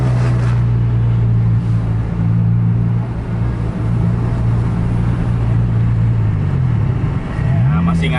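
A Scania K-series bus on the Pantura road accelerates hard while racing another bus on the highway. The engine drones loud and steady with a deep rumble, then its pitch sweeps as it shifts and revs near the end. People talk over it.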